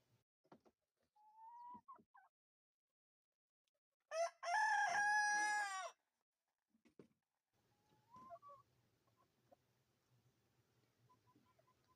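A rooster lets out one loud crow, surrounded by scattered soft clucks and faint bird calls in an otherwise quiet off-grid homestead yard.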